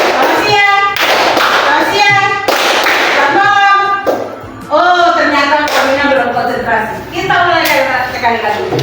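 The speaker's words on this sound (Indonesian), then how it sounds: "Tepuk tangan semua." A class of children claps hands in quick bursts of rapid applause, loud and close, alternating with a teacher and children speaking in a classroom.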